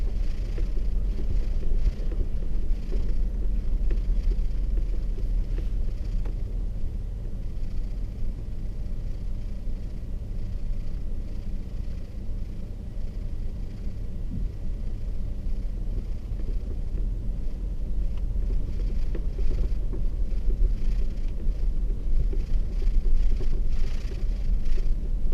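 Vehicle pulling a gooseneck trailer while driving forward, a steady low rumble of engine and road noise with some wind buffeting, continuous and fairly even throughout.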